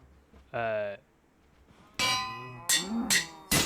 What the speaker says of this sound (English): I've already stuck myself a molten aluminum cow over here